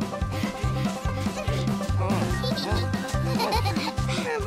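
A cartoon goat bleats over a busy animated scene, loud wavering cries heard in a rhythmic pattern under a bouncy backing beat.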